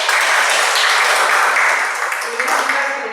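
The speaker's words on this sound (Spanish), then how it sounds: "le damos la más cordial bienvenida a Candy con un fuerte aplauso" An audience of teachers gives a warm welcoming round of applause to a speaker at a numeracy training session, loud steady clapping that thins toward the end as a voice begins talking over it.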